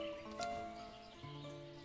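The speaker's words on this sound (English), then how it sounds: "A real horse." A horse neighs softly in the village-building game Ostriv, a brief whinny set over a quiet, steady tonal music bed.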